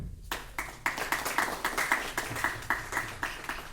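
A small audience at a medical association installation event claps in a loose, rhythmic pattern, with distinct repeated hand claps standing out close by over a few seconds.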